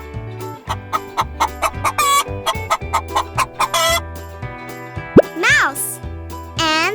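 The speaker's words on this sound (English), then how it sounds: "How does a chicken sound?" A chicken clucks in a quick series of short, sharp calls, close and loud. Each cluck is separate, and a few higher-pitched squawks rise near the end.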